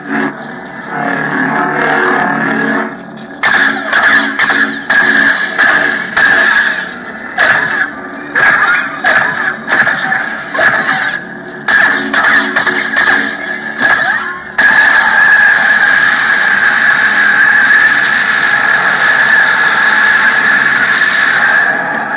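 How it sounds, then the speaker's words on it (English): A Sith lightsaber from the Eternal Emperor ProffieOS soundfont crackles in a choppy run of bursts and then holds a sustained, wispy screaming lockup tone, loud and close. "he's got that sort of a wispy sounding scream on the lock"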